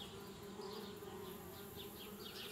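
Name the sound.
bees buzzing around a tree house, from the video game Anna's Quest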